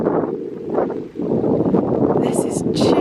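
Strong wind blows across the grounds at Ballyfin, a steady loud rushing over the microphone with brief gusts, and faint higher rustling near the end.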